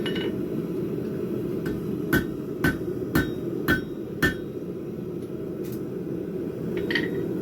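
A hammer shaping hot metal at a forge, five evenly spaced ringing strikes in a row, then a couple of lighter taps, over a steady low roar of background noise.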